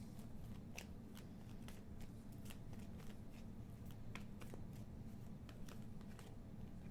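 Tarot cards being shuffled and drawn into a pile, a quiet close-up run of rapid papery flicks and snaps over a low steady background hum, with no speech.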